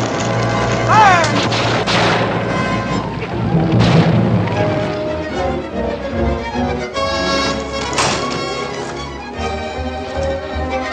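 Musket and artillery fire in a 1957 western fort battle, loud booming shots and blasts overlapping in a dense, chaotic barrage with dramatic orchestral music underneath.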